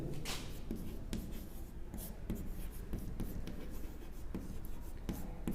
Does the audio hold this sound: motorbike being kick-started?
no